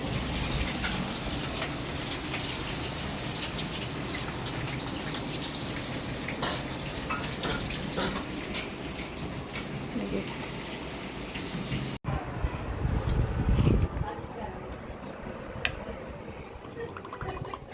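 Water pours and splashes steadily while a small child is bathed, a dense rushing spray that cuts off abruptly, followed by quieter room noise with low thumps and faint splashes.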